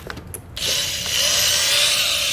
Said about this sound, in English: So let me plug in the power drill.